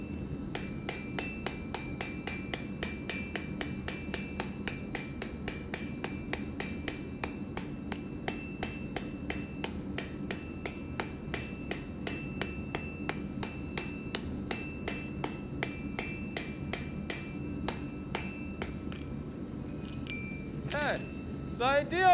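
Steel for a fire poker is forge welded with light, quick hammer blows, giving a long run of close ringing metallic strikes in a fast, steady rhythm over low forge rumble, with a speaking voice faintly underneath.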